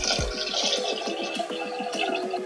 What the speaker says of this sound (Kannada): ಇವಾಗ ಹಾಕಿಕೊಂಡಿರುವ ತರಕಾರಿಗೆ 5 ಕಪ್ ನೀರು ಹಾಕೊಳ್ತಾ ಇದ್ದೀನಿ.